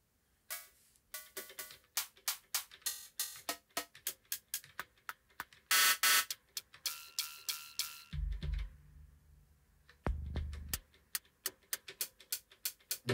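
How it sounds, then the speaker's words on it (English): Elektron Digitone synth cycling through short hi-hat and percussion sounds: a rapid sequence of crisp ticking hits at a steady rhythm, interrupted by a couple of longer noise bursts and low tones, quiet and with no talking. "I like this one, it's a short hat."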